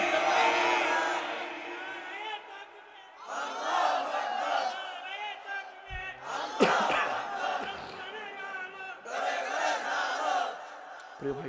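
A large crowd roars a religious chant in unison in answer to a takbir call, repeated in several loud, swelling waves of massed voices with brief pauses between.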